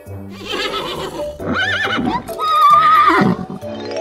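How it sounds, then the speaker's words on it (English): A horse neighs in several loud, wavering whinnies, heard close and clear with short pauses between calls. "horse."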